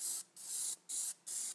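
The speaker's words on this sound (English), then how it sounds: "So I'm going to spray one of these spokes here." Plasti Dip aerosol can spraying onto wheel spokes in three separate bursts, each a sharp, loud hiss with short pauses between, no talking.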